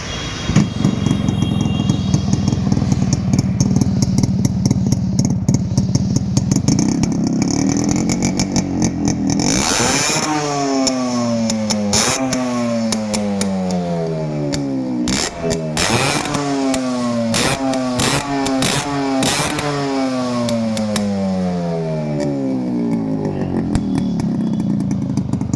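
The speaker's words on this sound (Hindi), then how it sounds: "अब मैं आपको इस बाइक को स्टार्ट करके दिखाता हूँ।" Restored and modified Yamaha RX100 motorcycle engine kicks over and runs, a loud, close two-stroke buzz with sharp rising and falling revs repeated throughout, then settling into a steady rattling idle.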